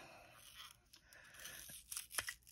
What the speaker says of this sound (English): I'm breaking it because there's tape here.